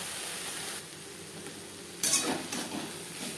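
Yard-long beans with grated coconut stir-fry over a medium gas flame, a soft steady sizzle with a brief louder scrape of the spatula partway through.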